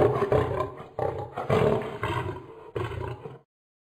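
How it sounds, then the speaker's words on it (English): A lion roars in several loud, rough bursts with brief pauses between them, close and alone, with no talking. "Lion."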